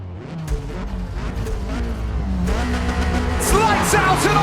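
A pack of race cars launches off the line at a race start in Forza Motorsport, engines revving and rising in pitch together, a loud continuous roar that builds and brightens over the clip.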